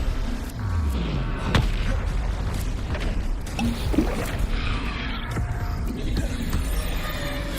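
Confringo fire-spell blasts in the video game Hogwarts Legacy, a loud, busy combat mix of booming impacts and whooshes with a sharp crack near the start and another burst mid-clip, steady throughout.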